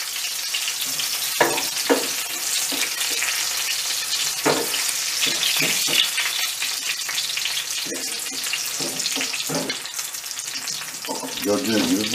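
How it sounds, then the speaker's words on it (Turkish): Chicken frying in a pan with a steady, loud sizzle, while scattered clinks and scrapes come from stirring and turning the pieces. No voices can be heard. "Tavuklarımız kızarınca onları bir tabağa alıyoruz."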